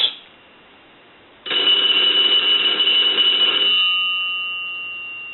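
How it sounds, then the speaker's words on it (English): An old Northern Electric N233H three-slot payphone bell rings loudly in one sustained metallic burst after a quiet start, then its ringing decays slowly away. "I want to ring the telephone. I want to let that go a few times."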